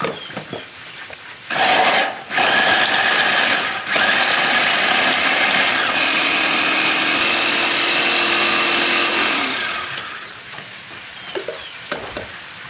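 An electric food chopper grinding galangal, red chilies, bird's eye chilies, shallots, garlic and turmeric, whirring loudly in a couple of short pulses and then one long continuous run of about seven seconds before stopping.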